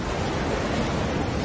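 Strong sea waves off Entalula Island, El Nido, Palawan, roar as a steady, loud broadband wash with no breaks, like surf heard up close from a boat.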